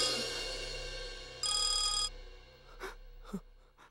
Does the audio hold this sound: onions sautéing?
no